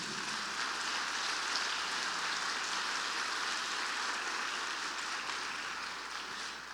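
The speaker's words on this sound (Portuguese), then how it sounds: "Você pode aplaudir o Senhor Jesus?" A church congregation applauding in a steady, dense wash of overlapping claps, sustained at an even level from start to finish with no voices standing out.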